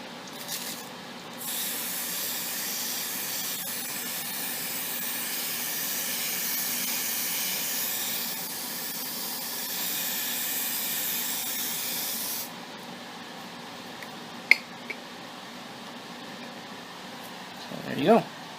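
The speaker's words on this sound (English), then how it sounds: "and I'm gonna start spraying" Silver spray paint hisses from an aerosol can in a long, continuous burst of about eleven seconds, followed by quieter handling noises and a few brief clicks and knocks.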